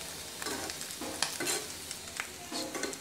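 Shami kebabs of goat meat bound with egg fry in oil in a pan, making a quiet, steady sizzle with occasional soft stirring scrapes, close but low in level and without speech.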